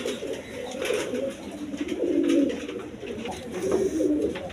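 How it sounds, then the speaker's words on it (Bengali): Giribaz pigeons coo in low, rolling calls that swell and fade in repeated phrases, close by, over a soft background hum. "দর্শক এখানে এক জোড়া গিরিবাজ কবুতর আছে"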